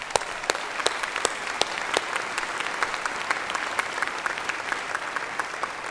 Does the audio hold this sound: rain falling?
no